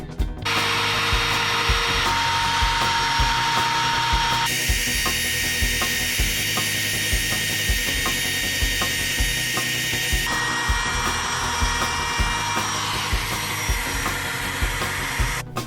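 A router fitted with a tapered bit carves outlines of letters into a wooden coat rack board, giving a continuous loud high-pitched whine with gritty cutting noise whose pitch shifts as the bit moves through the wood.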